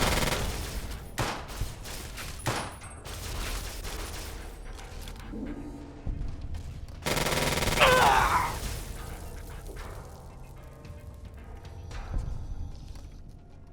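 Rapid bursts of gunfire from turrets in the video game Fallout New Vegas, with dense overlapping shots early on, a loud crashing stretch in the middle and scattered shots trailing off, and no talking.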